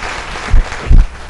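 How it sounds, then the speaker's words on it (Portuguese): Brief applause from a church congregation during a service, a steady wash of clapping with two heavier bursts close together, lasting just over a second. "Vamos dar uma linda salva de palmas para o Senhor Jesus"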